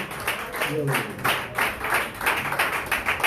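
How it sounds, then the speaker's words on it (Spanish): A church congregation applauds in praise of God during a Spanish-language worship service, a steady wash of many hands clapping together with voices calling out over it. "con un aplauso a Dios."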